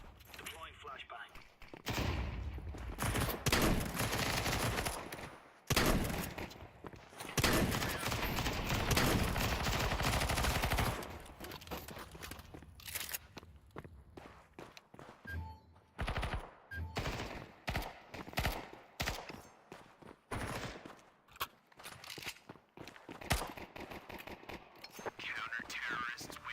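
Gunfire in a Counter-Strike 2 match, bursts of rapid automatic shots and scattered single cracks alongside grenade and flashbang blasts, loud and busy with intermittent gaps, while a voice talks over parts of it.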